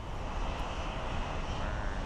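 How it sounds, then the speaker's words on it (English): Royal Air Maroc airliner in oneworld livery on landing approach at Frankfurt Airport, a steady broadband jet roar, fairly faint and distant, with no talking. "here we have the One World livery from the Royal Air Maroc"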